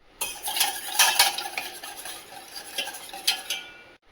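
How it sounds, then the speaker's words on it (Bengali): Three eggs whisked in a bowl make quick, close clinking strokes of utensil against the bowl, coming in uneven bursts with short pauses and no talking. "ডিমটা আমি ভালোভাবে ফেটিয়ে নিয়েছি"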